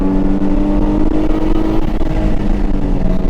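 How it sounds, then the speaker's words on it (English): Nissan 350Z with a JDM engine swap pulls at full throttle on a race track, its engine drone loud, close and steady throughout, with strong low harmonics and no talk over it. "Squeeze on the throttle lightly and full throttle."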